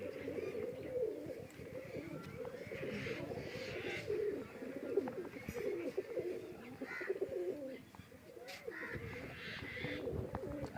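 Pigeons cooing in a rooftop loft of fancy flying pigeons, with repeated soft coos and a few chirps layered over steady low murmuring, close and continuous throughout.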